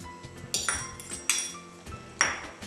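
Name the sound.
mixing and mashing vegetables with tomato and onion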